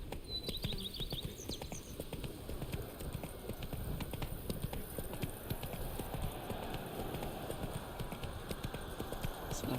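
Horse hooves clopping steadily up stone stairs in The Witcher 3 video game, a continuous close run of hoof strikes with faint bird chirps in the background.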